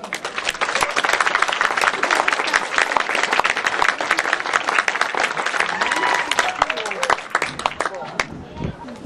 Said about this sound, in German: Und ihm gebührt jetzt einmal ein großer Applaus.